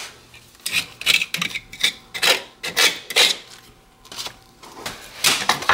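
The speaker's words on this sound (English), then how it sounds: "So now we cut off drywall by the 2x4" Drywall being cut beside a 2x4 stud near a metal corner during a laminate floor install, heard as a run of close, loud rasping strokes in uneven bursts, with no talking.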